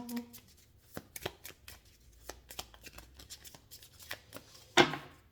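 A deck of Lenormand oracle cards is shuffled by hand in soft, scattered riffles and taps, ending with a sharper flutter of cards. The sounds are close and quiet, with a brief murmur of voice at the start.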